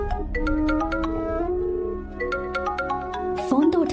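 A mobile phone ringtone plays a melodic repeating tune in a dubbed South Indian film, loud and close, with a voice and other sounds briefly overlapping near the end.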